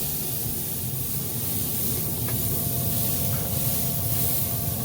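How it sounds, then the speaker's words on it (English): A steady hiss of water sprayed onto smoking pork belly on a barbecue smoker runs throughout, broad and even, close by with no voices. "Spray a little bit of water."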